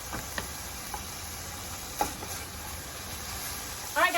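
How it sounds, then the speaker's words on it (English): Ground turkey with spices sizzles in a pan, a steady moderate hiss with a few light clicks and knocks of a utensil near the end. "The moment the spice hits the pan, you can smell it."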